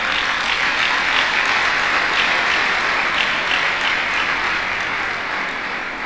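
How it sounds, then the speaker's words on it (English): An audience at a college convocation lecture applauds steadily, a dense, even wash of many hands clapping alone for several seconds without a break. "Please clap for her."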